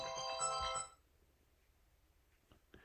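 A mobile phone ringtone plays a bright, loud melodic burst for about a second, then cuts off abruptly into a quiet room.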